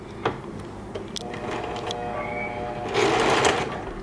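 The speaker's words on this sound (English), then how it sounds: "And then you can start sewing." A sewing machine stitches steadily at a home beginner's session, its motor and needle running continuously and close by, with a louder burst toward the end.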